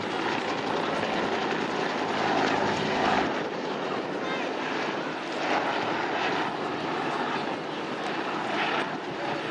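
A Bell UH-1 Huey and a Hughes OH-6 Cayuse helicopter run at an outdoor air show, their rotors and turbines making a loud, continuous droning whir while an announcer talks over the PA.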